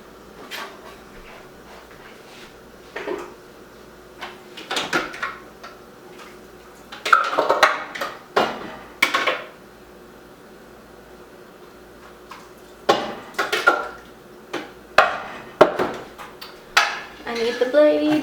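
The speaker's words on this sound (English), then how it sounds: "So for my tomato sauce, I'm just going to go ahead and ladle it into here." Homemade tomato sauce ladled from a stock pot into jars, with irregular clinks and knocks of metal and glass separated by quiet stretches, grouped in busy bursts.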